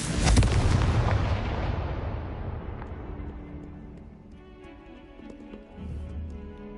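Confringo fire spell in Hogwarts Legacy bursting in a loud booming explosion that rumbles and fades over several seconds, followed by a softer low thud.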